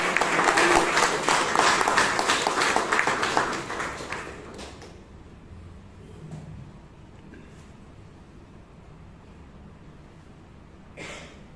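Applause from the audience at a Toastmasters club meeting in Bangalore, dense clapping for about four seconds that thins and fades into quiet room tone, with a few scattered claps and a brief tap near the end.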